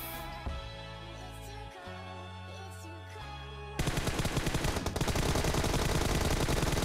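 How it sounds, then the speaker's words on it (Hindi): AWM sniper rifle fire in the mobile game BGMI, with loud game gunfire; after a few seconds of tonal sound the clip turns into a dense, rapid burst of shots that keeps going to the end. "जब हम उनके ऊपर पुश कर रहे थे तो हमारे ऊपर AWM चलने लगी"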